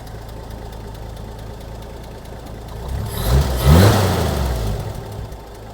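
A 1963 Chevrolet K20 brush truck engine idles steadily and close, swelling into a brief rev near the end before settling back to a smooth idle, with no talk over it.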